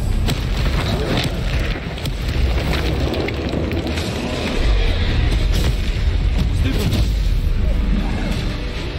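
Bombarda blasting spell cast in the game Hogwarts Legacy, giving loud, dense rumbling booms and crackling bursts that run continuously through the clip amid battle noise and some voices.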